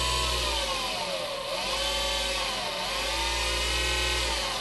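An electric motor runs from a repaired power supply driven by a function generator, a steady loud whine with tones that dip and rise twice as the speed shifts, continuous and close.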